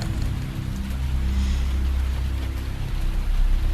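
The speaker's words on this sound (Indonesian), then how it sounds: "Hanya suara deras hujan yang makin terdengar, juga gemuruh petir" Heavy night rain pours steadily with a deep low rumble of thunder underneath, a continuous dense wash of sound with no voices.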